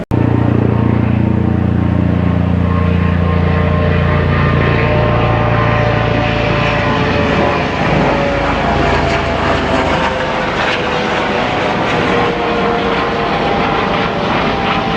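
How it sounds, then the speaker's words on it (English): A helicopter passes overhead during a pirate-themed visit to Penzance, its steady loud rotor and engine drone filling the scene throughout without any talk. "I did manage to catch a helicopter earlier, so I'm going to chuck that in at the end."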